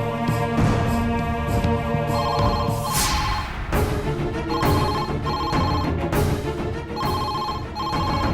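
Telephone ringing indoors in a Tamil TV serial scene, repeated electronic ring bursts in a steady rhythm throughout, loud and close over a busy background score.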